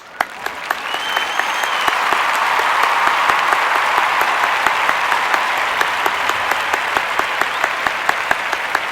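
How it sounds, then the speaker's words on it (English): Sustained applause from a large concert audience, dense and steady clapping that swells quickly and holds for several seconds. "What about another big round of applause for all of their accomplishments?"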